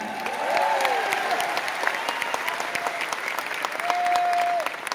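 An audience at a silver jubilee celebration event claps in sustained, dense applause that fills the hall at a steady loudness, with faint crowd voices and a few whoops mixed in.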